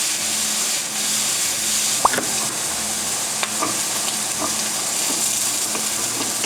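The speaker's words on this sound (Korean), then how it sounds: "두부, 집에 있는 버섯 볶아서" Tofu and mushrooms stir-frying in a pan, a loud continuous sizzle with occasional spatula scrapes and taps, close up and with no talking.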